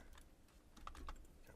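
Keys clatter on a computer keyboard in a quick, uneven burst of soft taps at a workstation while graphics are edited for laser cutting, faint and close, with no one speaking.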